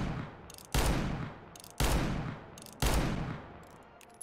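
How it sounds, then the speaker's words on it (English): Three loud, single R8 revolver shots from CS:GO, each after a short trigger pull with a faint mechanical click, booming and echoing off between evenly spaced shots. "The primary shot, where it takes time to pull the trigger"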